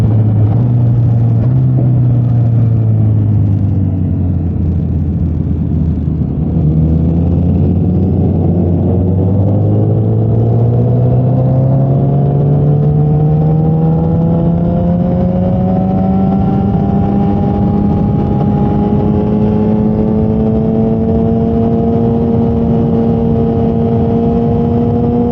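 A Yamaha FZ1 motorcycle cruises on a highway, its engine droning loud and close throughout, with the pitch dipping briefly and then climbing steadily as the bike accelerates, under constant wind rumble.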